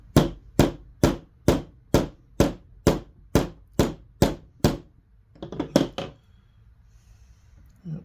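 A part being tapped into place through a socket while assembling an Open Antikythera Full Monty kit: about twelve crisp, evenly spaced knocks at close range, followed by a short flurry of lighter taps and then quiet.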